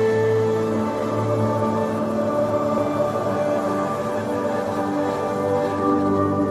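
The final track of an album plays as a dense, continuous wash of sustained tones and low drones, loud and steady throughout with no voices over it.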